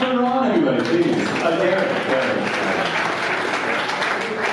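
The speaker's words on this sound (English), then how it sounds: "Another round of applause for Ron, everybody, please." A room full of mourners gives loud, sustained applause at a celebration of life, many hands clapping densely and close, with a voice speaking over the start.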